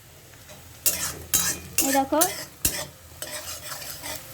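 Ingredients for a Nabomi-style gugni fry in oil, a spoon scraping and stirring in several sharp, close strokes over a low sizzle, with a short spoken phrase in the middle.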